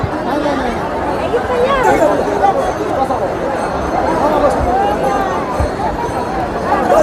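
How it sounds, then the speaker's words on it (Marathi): A dense crowd of Warkari pilgrims at the Kumbh Mela in Latur makes a loud, continuous babble of many overlapping voices close by, with chatter, calls and movement filling the whole stretch. "यांचं दर्शन घेण्यासाठी किती गर्दी होत आहे."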